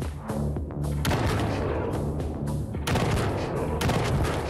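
Rapid bursts of gunfire in the mobile shooter game Johnny Trigger, with several loud volleys of shots over steady game sound and no talking.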